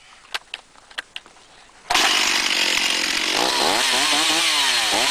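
A Stihl chainsaw: a few sharp taps and clicks, then the saw roars to life loudly and close, revving up and down in waves with no talk.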